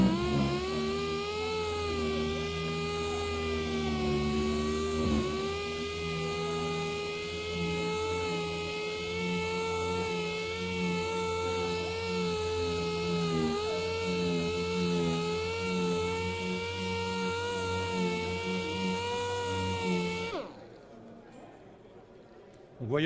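An 80-grit sia abrasive disc on a power sander working wood, with dust extraction: a loud, steady whirring drone with a tonal whine that holds for about twenty seconds, then cuts off abruptly.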